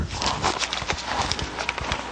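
A horse being led through an obstacle course past caution tape, hooves landing in a steady, close clip-clop walking rhythm with no talking.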